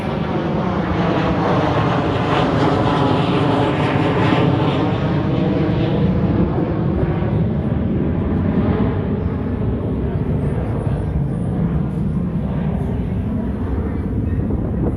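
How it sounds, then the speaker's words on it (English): A fixed-wing airplane passes overhead near Liberty Station in San Diego, a loud, steady engine roar that fills the whole stretch without a break, with faint voices beneath it. "here goes another plane"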